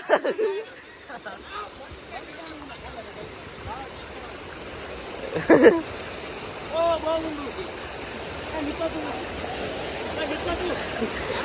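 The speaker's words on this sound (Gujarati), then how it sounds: "વરસાદ ફૂલ આવે છે ને આમ ખાલી તમે પૂર જોઈ લ્યો" Floodwater from a swollen river rushing through a Gujarat village in heavy rain, a steady broadband roar that continues throughout while people talk nearby.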